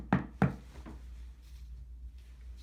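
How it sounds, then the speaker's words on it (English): Two sharp knocks on a wooden door, close and loud, followed by a couple of fainter raps and quiet room tone. "Whence is that knocking?"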